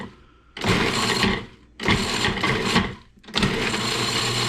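Kitchen appliance grinding herbs for herb butter, running in three loud whirring bursts separated by brief pauses, close by with no talk.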